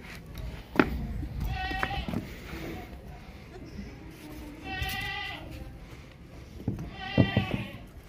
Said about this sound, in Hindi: ये वाइट वाला बकरा है और लाल वाली बकरी है